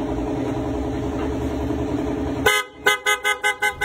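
A vehicle horn from an aftermarket driving-light and horn setup sounds over an idling engine: first a steady tone, then a loud cut, then a series of short repeated blasts in quick rhythm, close up.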